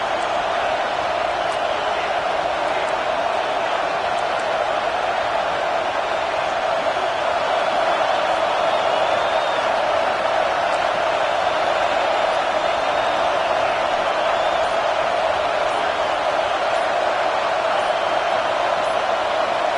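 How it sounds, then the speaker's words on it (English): Steady, dense roar of a loud football stadium crowd in a video game on a third-and-long play, a constant wall of cheering noise throughout with no clear breaks. "with this place rocking, the crowd forces a false start"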